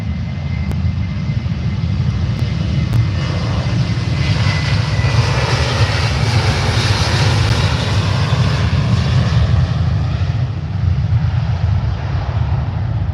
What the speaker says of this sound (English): next departure, the Ryanair 737-800.